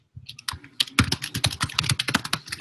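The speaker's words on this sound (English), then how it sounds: "Who's typing?" Rapid typing on a computer keyboard picked up over a Zoom call, a dense run of clicky keystrokes with irregular rhythm, close and fairly loud, with no talking.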